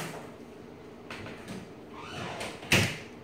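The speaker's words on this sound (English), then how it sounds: "Close the door." A door pushed shut indoors during a food taste test, a short, fairly loud knock near the end following faint shuffling movement, with quiet room tone and no speech over it.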